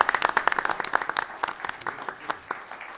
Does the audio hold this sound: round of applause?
yes